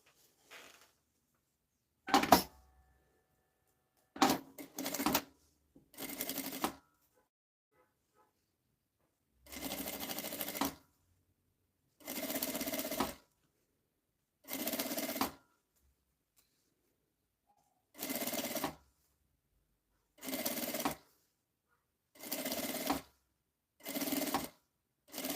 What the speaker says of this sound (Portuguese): coloco estampa de frente aqui, alinho bem e passo mais uma costura.